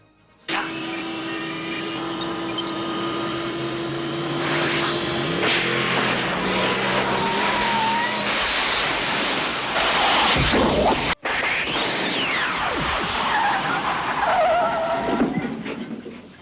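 A Citroën C15 car drives and skids, a continuous loud engine and tyre noise with squealing sweeps and one abrupt cut, running nearly the whole time with no talk.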